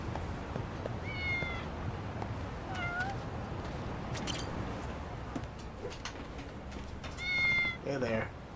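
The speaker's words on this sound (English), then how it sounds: "Also, I hear a cat." A cat meows in the video game Lost Judgment, several short high calls at about one, three and seven seconds over a steady hum of game ambience and background sounds.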